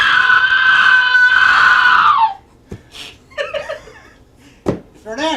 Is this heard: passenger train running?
no